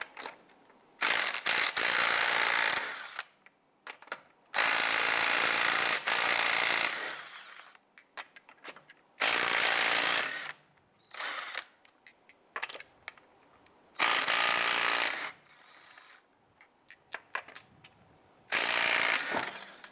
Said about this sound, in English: Using our 22mm socket, let's loosen and remove our lug nuts.